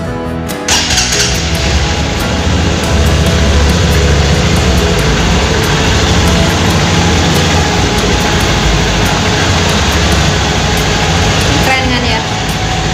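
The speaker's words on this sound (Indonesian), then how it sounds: "kalau udah tinggal di starter seperti biasa" Honda CRF 150L motorcycle engine cranking on its electric starter and catching, then running steadily at a loud, close idle with a dense rumble that continues to the end.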